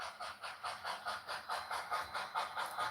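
A train running in the video game Red Dead Railroad, with a steady rhythmic chuffing that repeats about four times a second over a constant hiss, heard close and alone.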